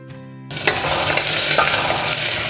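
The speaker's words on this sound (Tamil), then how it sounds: "அடுத்து இஞ்சி, பூண்டு, அடுத்து வெங்காயத்தை சேர்த்துக்கிறேன்" Ginger, garlic and onion hit hot oil for dal tadka: a quiet tonal hum gives way to a sudden loud burst of sizzling and crackling with stirring.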